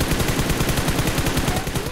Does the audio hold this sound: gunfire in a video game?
yes